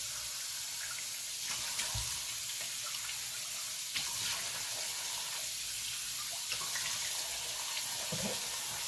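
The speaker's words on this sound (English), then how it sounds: "So first up, I wet my face." Tap water running steadily into a bathroom sink while someone wets their face, a continuous close hiss with small splashes and drips, no talking.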